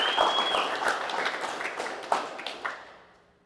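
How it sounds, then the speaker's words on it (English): Audience applause at a company all-team update meeting, a steady wash of clapping that fades out toward the end, with a few sharper individual claps near the close. "A little round of applause for Casey."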